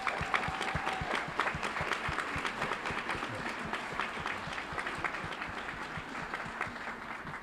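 Audience applause at a school board meeting, a sustained wash of many hands clapping steadily for several seconds at moderate distance, with a brief tone early on and no talk over it.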